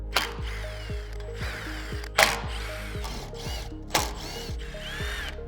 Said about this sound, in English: Now we're going to go ahead and tighten up our clamps.